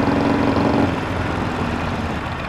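Harley-Davidson motorcycles rumbling together on a group gratitude ride, a steady low engine drone that holds evenly throughout with no speech over it.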